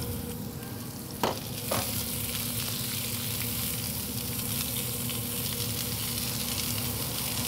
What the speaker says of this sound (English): I'm gonna lay down a little bit of clarified butter for those onions to cook in